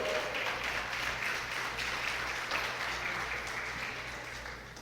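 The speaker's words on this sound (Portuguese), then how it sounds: "Pode aplaudir Jesus, não é proibido não" A church congregation applauds during a sermon. Steady, moderately loud clapping fills the hall from start to finish, with a low hum underneath, and it tapers off slightly near the end.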